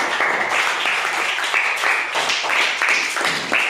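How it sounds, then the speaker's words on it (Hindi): Children applauding in a classroom quiz game modeled on a TV quiz show: dense, lively clapping from a roomful of kids, fairly loud and sustained throughout with rhythmic surges. "इसलिए वासिया के लिए जोरदार तालियां।"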